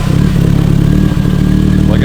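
A Nissan S13 engine catches and runs, a loud, close, rough low rumble with some clatter, while a voice talks over it.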